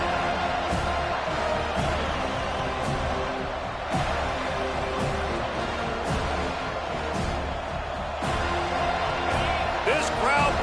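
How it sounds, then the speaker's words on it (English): Stadium crowd at an American football game roars with steady, dense cheering and noise throughout, while an announcer talks over it and occasional thumps and claps cut through. "This crowd bringing the energy and noise early."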